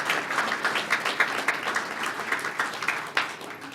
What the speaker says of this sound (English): I'm going to ask you to give them a round of applause right from the beginning